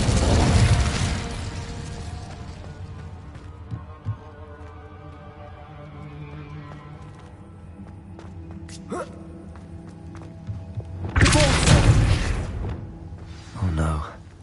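The Incendio fire spell is cast in Hogwarts Legacy, sounding as a loud whooshing burst at the start and again near the end, with quieter mechanical clicks and low ambience in between.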